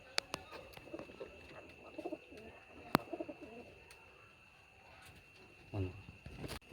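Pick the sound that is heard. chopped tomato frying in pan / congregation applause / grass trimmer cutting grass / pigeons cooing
pigeons cooing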